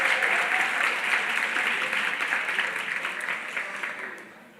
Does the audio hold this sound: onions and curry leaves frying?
no